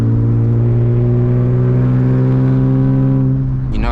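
A manual BMW E36 328i with a loud exhaust pulls hard under acceleration at night, the engine note loud, close and steadily rising in pitch, with a brief click near the end.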